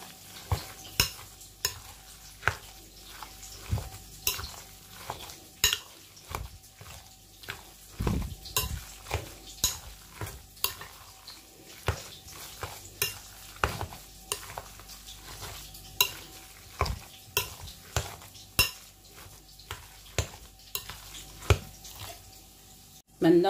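Quenelle stuffing is worked by hand or spoon in a bowl, making a rhythmic run of wet, squelching thumps and clinks that repeat about once a second, close by and moderately loud.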